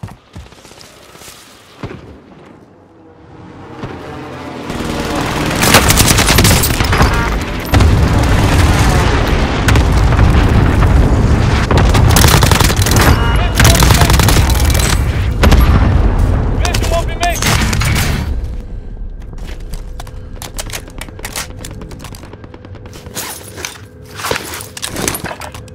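Gunfire and explosions in the video game Warzone, with bursts of rapid shots and heavy booms packed densely through the middle and thinning to scattered shots and footsteps toward the end, loud and close.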